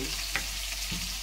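Bitter gourd fries in a pan with a dense, steady sizzle that stays loud and even throughout, broken by a couple of faint stirring scrapes.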